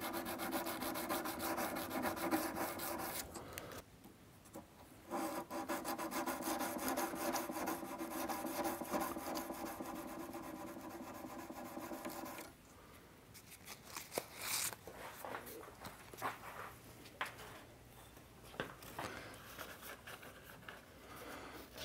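Sandpaper rubs in rapid back-and-forth strokes over the wooden body of a D'Aquisto-style archtop guitar during fret work, close and steady, with a brief pause near the start and a quieter, more broken stretch toward the end.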